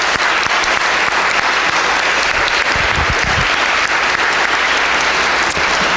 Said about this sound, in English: So everybody, please give Marquita a round of applause.